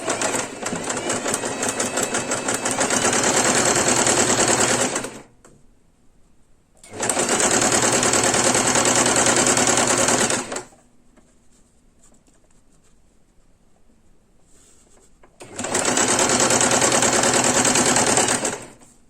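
A sewing machine stitches patchwork fabric in three long, steady bursts of rapid mechanical whirring. Each burst lasts a few seconds and is separated by short quiet pauses, close and loud.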